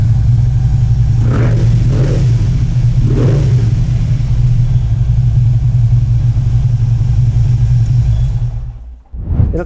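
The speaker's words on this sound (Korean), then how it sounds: "이렇게 배기음 들어봤습니다. 굉장히 굉장히 묵직하고 깔리는 배기음이라고 볼 수 있습니다." A Harley-Davidson Road King motorcycle with about 24,000 km on it idles loud and close, its deep, heavy exhaust burbling steadily with a couple of slight rises before it cuts off near the end.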